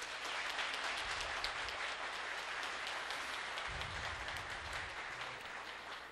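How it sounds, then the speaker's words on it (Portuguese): Faint, distant applause from an audience welcoming a speaker at a talk, a continuous even patter of clapping that holds steady and tapers slightly at the end. "uma salva de palmas para o nosso palestrante"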